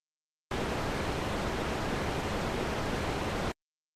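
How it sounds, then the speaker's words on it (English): A burst of hissing static interference on a high-frequency radio transmission, dense broadband noise starting abruptly, holding steady and loud for about three seconds, then cutting off into silence. "High-frequency transmissions suffer badly from static interference and are unpleasant to"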